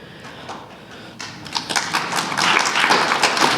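Audience applause after a line in a political speech, building from scattered claps into a fuller, steady round of clapping that grows louder toward the end.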